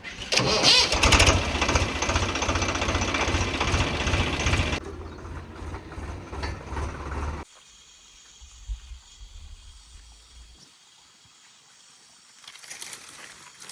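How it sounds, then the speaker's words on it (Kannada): A diesel tractor engine chugs loudly up close, then cuts off abruptly into near silence before a rumble returns at the end. "ಇವಾಗ ಟ್ರ್ಯಾಕ್ಟರ್ ಬರ್ತದ್ರಿ"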